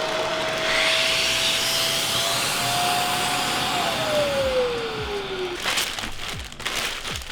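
A vacuum sealer runs steadily while packing donated gear, a loud continuous whine with a pitch that drops partway through, followed by crinkling plastic and handling noises near the end.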